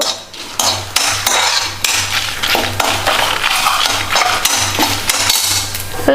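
Peppercorns roasting in a dry pan for a coastal Karnataka jackfruit sambar give off dense, continuous crackling and clattering, with steady metallic scraping and stirring sounds close by throughout.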